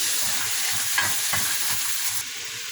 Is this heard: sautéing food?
yes